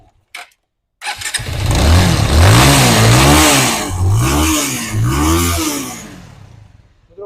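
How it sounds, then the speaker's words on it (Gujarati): A motorcycle engine cranks and catches after a short pause, then revs in several rising and falling swells before settling, loud and close with no talking. "એન્જિનનો અવાજ તમે સાંભળી શકો છો એકદમ એકદમ સ્લો અને સ્મૂથ છે"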